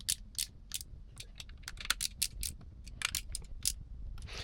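A torque wrench tightens a bolt on a rebuilt Yamaha R1 sport bike, producing a quick, irregular string of sharp ratcheting clicks, close but fairly quiet, with no voices.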